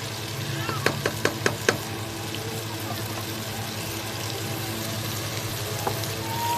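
Ground ginger, garlic and green chillies fry in a pan while making kaleji, giving a steady sizzle with a quick run of sharp pops early on and a faint click later.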